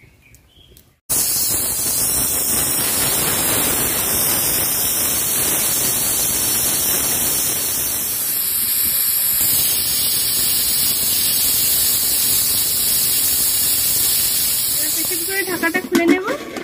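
A pressure cooker on a lit stove cooking mutton curry gives off a steady, loud, continuous hiss of escaping steam that lasts throughout, with a high whistling tone riding above it.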